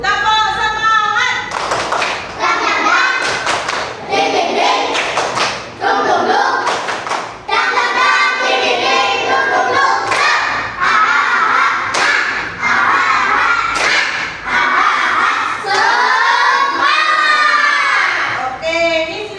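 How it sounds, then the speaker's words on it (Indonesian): A primary-school class does a rhythmic clapping cheer in a classroom, loud and close, with bursts of patterned claps and thumps mixed with children's chanting voices throughout. "Maka ayo tepuk semangat dulu."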